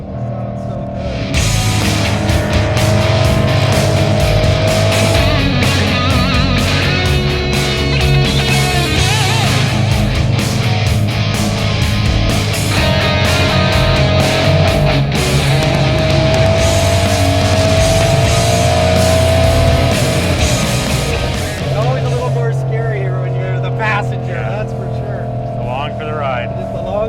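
Engine of a 2012 Ford Mustang Boss 302 heard from inside the car while driving on winding roads, a loud sustained drone whose pitch rises and falls with rev-matched downshifts, filling the cabin for the whole stretch.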